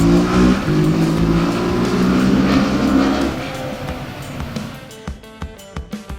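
A Suzuki SV650 V-twin motorcycle engine revs loudly and steadily, its pitch climbing, then drops away into a series of sharp, sputtering bursts that fade toward the end, with no talking.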